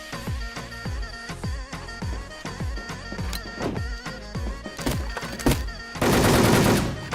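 Rapid gunfire rings out in the online shooter Wolfteam: a steady string of loud, close single shots, then a dense burst near the end.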